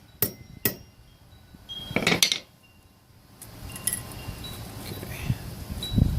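A metal flaring tool is tapped onto a snap socket on fabric: two sharp separate taps, then a cluster of clinking strikes, followed by quieter handling noise and a faint knock at the end.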